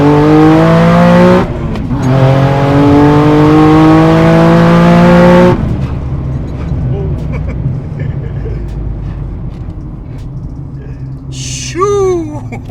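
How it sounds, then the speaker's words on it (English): Heavily modified Nissan 370z of over 700 wheel horsepower accelerating hard in second gear, a loud rising engine howl for about five seconds that then cuts off into wind and road noise, with a voice exclaiming near the end. "So this is second gear hit."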